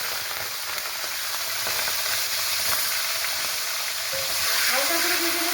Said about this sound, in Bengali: এবার তেল গরম হয়ে গেছে, হালকা করে ভেজে নেবো।